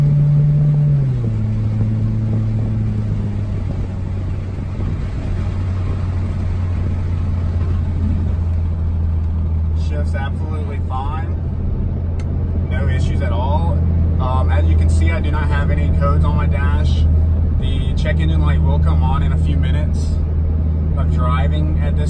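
A 2001-2005 Honda Civic with an automatic transmission cruises along, its loud, steady low engine and road drone shifting pitch early on, with a voice talking over it.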